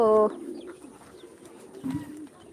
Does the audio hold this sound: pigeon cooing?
yes